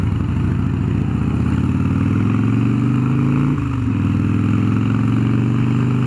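A Harley-Davidson Softail Fat Boy engine runs cold with the choke pulled, a loud, steady, rumbling idle with a brief dip in pitch partway through.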